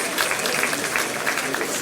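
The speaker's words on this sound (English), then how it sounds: "A round of applause for him." Applause at the launch event of a Lagos food production programme, greeting a military chief; a steady, dense wash of clapping fills the short stretch with no pauses, fairly close and moderately loud.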